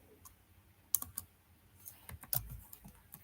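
Python code being typed on a computer keyboard: irregular bursts of quiet, close key clicks with short pauses between them, and no voice over it.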